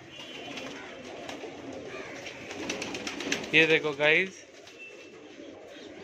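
Pigeons in a home loft in Mumbai, some sitting on eggs, give a short burst of throaty cooing that stands out near and loud over soft background chatter, with someone talking before and after.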